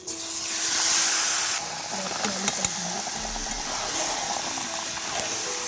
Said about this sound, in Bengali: এর মধ্যে এবার আমি দিয়ে দিচ্ছি চিকেনটা আমি এই মশলার মধ্যে দিয়ে দিচ্ছি